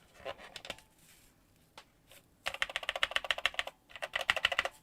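Mechanical keyboard with thocky-sounding switches being typed on in close, crisp bursts of rapid keystrokes, a short flurry first, then a pause, then two dense, loud runs of clacks.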